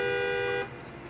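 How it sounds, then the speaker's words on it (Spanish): Truck horn in Expeditions: A Mudrunner Game, a loud, steady horn tone held for about half a second before cutting off, leaving low engine rumble. "la bocina es el L3"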